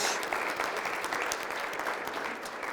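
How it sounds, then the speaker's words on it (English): A room of attendees at a morning coaching event applauds the sponsors, a steady, dense wash of clapping from many hands that carries evenly throughout without a break. "Our sponsors, give them a round of applause."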